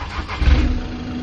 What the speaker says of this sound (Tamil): வண்டியை ஸ்டார்ட் பண்ணுங்க.